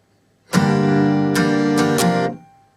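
Acoustic guitar strummed in a steady pattern with a few sharper accented strokes, ringing close and clear for about two seconds before fading.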